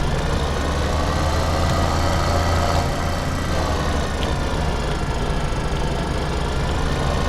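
A tractor engine in the farming game Farming Simulator 2013 drones as a steady, loud, low rumble that runs without a break from start to finish.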